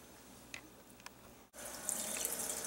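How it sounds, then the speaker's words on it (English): A kitchen tap runs while deer meat is rinsed; a couple of soft knocks come first, then water gushes on and streams steadily, close and fairly quiet. "you just want to be sure and rinse your meat real good"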